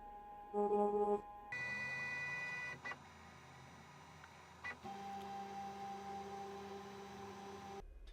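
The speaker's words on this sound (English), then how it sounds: "So it has homed the machine to the back right hand corner" A Genmitsu ProverXL 2x2 CNC machine homing to its limit sensors, its stepper motors whining in sustained pitched tones that shift between moves and pause briefly, fairly quiet and close.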